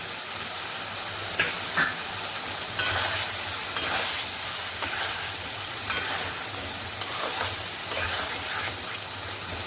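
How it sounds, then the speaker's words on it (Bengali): Fried potatoes cook in spice masala for a Bengali crab curry, giving a constant loud sizzle with occasional soft scrapes of a spoon stirring, close up and without speech. "এবার আমি এর মধ্যে ভাজা আলুটা দিয়ে দিলাম।"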